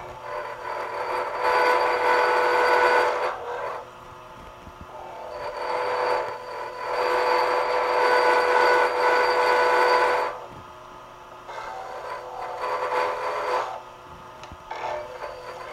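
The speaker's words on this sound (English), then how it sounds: "I'm going to go with the gouge a little bit more." A wood lathe spins a sapphire slimline pen blank while a gouge cuts it, giving a steady humming whir with scraping in several long passes separated by quieter pauses, close and alone without speech.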